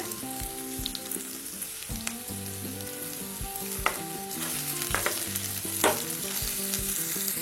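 Onions, lightly salted, sauté in a pan with a steady close sizzle and intermittent scraping stirs, plus a few low hums and clinks in the background.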